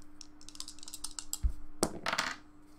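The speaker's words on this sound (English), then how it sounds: "We're going to roll the dice to see how many times you go on the names." Dice are rolled for a hockey card box break, a quick run of light clicks and rattles as they tumble, with a sharper knock partway through and a final clatter before settling; no one speaks.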